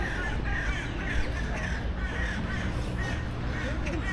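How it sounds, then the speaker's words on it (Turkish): Crows caw repeatedly against a constant, dense outdoor city din in Istanbul, the harsh calls recurring steadily and sitting fairly far back in the noise. "Kargaların sesleri."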